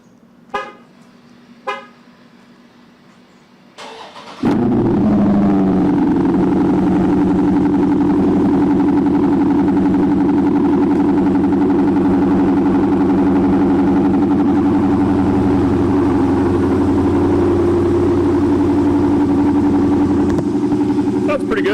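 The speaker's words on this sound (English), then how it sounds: "let's do a cold start. This is gonna be the first cold start since the install." A Dodge Charger Scat Pack fitted with Vibrant 1142 resonators cold-starts after sitting almost 20 hours. A couple of faint clicks come first, then the engine catches with a loud bark and settles into a deep, steady, rumbling idle close by.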